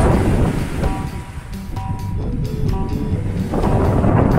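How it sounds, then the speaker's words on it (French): Wind and ocean swell buffet a small sailboat crossing the Atlantic, a loud steady rush of air and water with the surging low roar rising and easing, plus faint tonal creaks and whistles from the boat. "La houle s'est levée là, le vent s'est levé aussi,"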